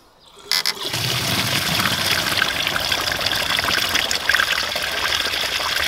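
Lactic acid bacteria liquid poured through a makeshift filter into a watering can, a sudden start then a steady, close, splashing trickle and gush of liquid continuing to the end.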